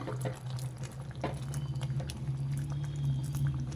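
Mysore dal and tomato bubbling in a covered pot on the stove, a steady low boil with soft popping bursts and faint patter running throughout.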